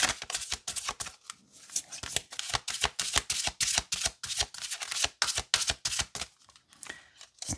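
A deck of spirit animal oracle cards is shuffled by hand in a rapid series of crisp riffling bursts, close and fairly quiet, with short pauses between runs.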